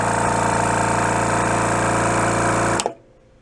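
Vacuum pump of a Hakko 470 desoldering station running at a steady, loud mechanical hum with a rhythmic drone, then switching off abruptly near the end, leaving near silence.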